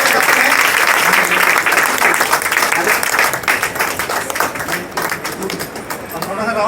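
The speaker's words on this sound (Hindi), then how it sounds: "जोरदार तालियां।" Loud audience applause at a talk in Vrindavan, dense clapping that gradually thins and grows more scattered toward the end.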